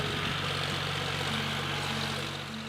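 A tractor engine idles steadily with a low, droning rumble and constant mechanical hum, close and continuous throughout.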